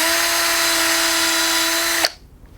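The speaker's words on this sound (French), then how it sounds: "on va aider la nature et percer un petit peu, histoire de dégager le terrain" A power drill whines steadily at high speed, loud and close, while boring into plant stems for an insect hotel, then stops abruptly.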